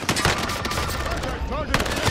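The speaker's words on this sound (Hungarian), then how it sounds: "Egy lövés." Gunfire from the Call of Duty: Modern Warfare game on Rebirth Island, loud close shots with rapid crackling bursts over a busy in-game background.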